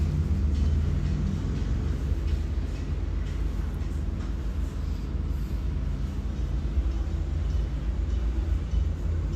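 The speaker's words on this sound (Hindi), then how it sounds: "ये मेट्रो स्टेशन के अंदर जाते वक्त मैंने वीडियो बनाई।" Steady low rumble of metro trains running continuously inside a metro station, with mechanical rattling and hum filling the background throughout, no clear voices.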